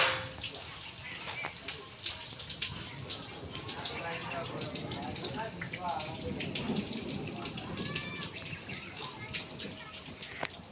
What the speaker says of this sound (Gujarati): અમારા જો વરસાદ આવે છે બહાર